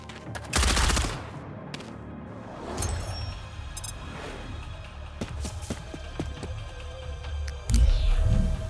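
Gunfire in the video game Reverse Collapse: loud bursts of automatic fire at the start and end, with scattered single shots and impacts in between, and no voices.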